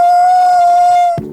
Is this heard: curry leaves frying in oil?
no